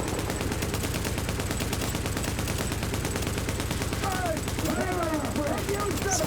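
Steady automatic fire from a video game weapon, a continuous fast rhythm of loud shots running the whole time, with other game sounds sweeping in toward the end.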